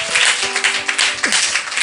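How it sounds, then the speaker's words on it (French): A church congregation at a first worship service in Mbour, Senegal, applauding and acclaiming the Lord, a loud, dense wash of clapping and voices that fills the whole moment. "On acclame le Seigneur."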